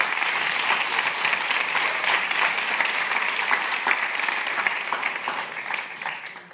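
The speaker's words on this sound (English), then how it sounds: "Please give her a round of applause." Sustained audience applause fills a hall at a tech festival held at the Royal Institution, a dense, steady wash of many hands clapping that holds at even loudness and eases off slightly at the end.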